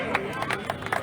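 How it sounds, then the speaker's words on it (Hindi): A crowd claps briefly and unevenly for women sanitation workers at a newly built garden in Sangam Nagar, Indore, with scattered claps over a murmur of voices. "तो एक बार जोरदार तालियां हो जाए हमारी स्वच्छता दीदियों के लिए"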